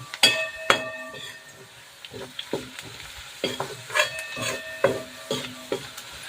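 Chilli powder sautés in a pan for a semolina vada curry, with a spoon scraping the pan in repeated close strokes over a steady sizzle.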